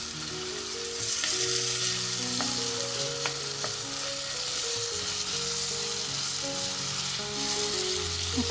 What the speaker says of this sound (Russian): Все это варим на маленьком огне в течение 10 минут.